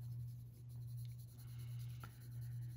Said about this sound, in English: This paper takes the pencil really nicely.